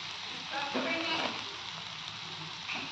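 Vermicelli frying in a pan with raisins, salt and sugar, giving a steady close sizzle with stirring scrapes that swell briefly mid-clip before settling.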